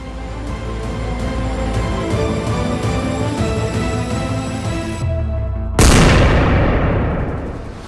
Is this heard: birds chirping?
no